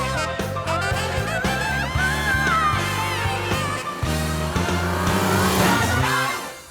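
A classic BMW with a high-performance exhaust revs hard and pulls away, its engine note rising and shifting through repeated gear changes, loud and continuous with a brief dip partway through.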